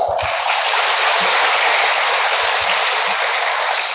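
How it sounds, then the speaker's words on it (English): Loud, dense applause from a large conference crowd, a continuous wash of clapping that fills the whole stretch without pause. "round of applause"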